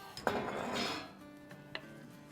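Cooked Maggi noodles scooped from a pot into a bowl, with quiet scraping, a couple of light metallic knocks and clinks of utensil against dish, close and soft, no speech.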